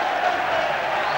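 A 2009 rugby league crowd at a Catalan Dragons versus Wigan match roars for a Catalan Dragons try, a loud, dense, continuous burst of cheering and applause in a brief moment.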